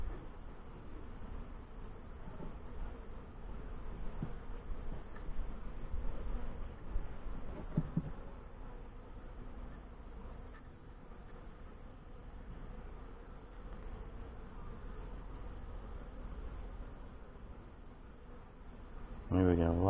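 Honey bees buzzing around an open hive during an inspection, a steady low droning hum that runs throughout, with a person talking faintly over it now and then.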